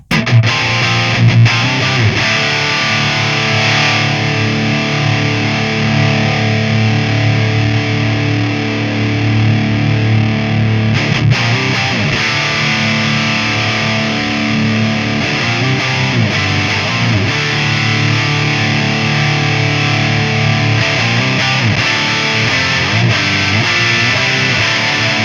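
An electric guitar amp on its overdriven channel gives a warm, saturated brown tone, sustained distorted chords and riffs ringing loud and continuous for about twenty-five seconds without talk.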